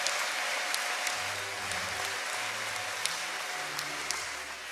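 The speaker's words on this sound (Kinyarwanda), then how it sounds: "Nimumfashe twongere tumuha amashyi n'impundu." A church congregation applauds at a gathering honoring a cardinal, steady dense clapping that sounds broad and somewhat distant, with faint high ululation woven through the crowd.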